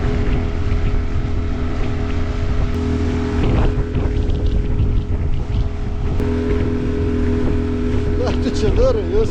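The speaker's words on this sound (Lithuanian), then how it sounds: "Labai didelis vėjas, kai greit." Strong wind roars against the microphone while riding a fast motorboat on the Nemunas river, a steady loud buffeting over the engine hum throughout, with a voice speaking briefly.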